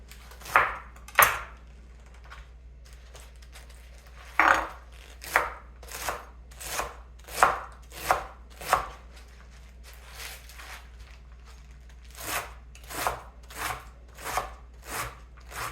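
A knife chops collard greens on a board, making a string of crisp, fairly close cuts that come in irregular bursts with short pauses between them.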